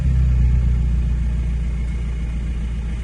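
The 1.9 TDI diesel engine of a VW Bora with about a quarter million miles on it idles just after starting, a loud, close, steady low rumble that eases slightly as it settles.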